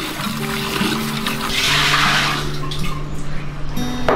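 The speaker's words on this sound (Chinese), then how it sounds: "先给它清洗一下。" Water runs steadily from a tap while a dried soup ingredient is rinsed before soaking, a close, continuous splashing rush with some sloshing near the end.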